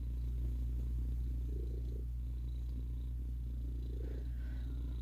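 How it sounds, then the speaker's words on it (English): A pet kitten purrs close by in a steady, low continuous rumble that carries on unbroken with no voices over it. "I got a purring kitty."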